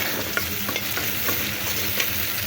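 Spice masala fries and is stirred in a pan for a thin prawn curry with okra, a dense continuous sizzle with soft scraping strokes, close and even throughout.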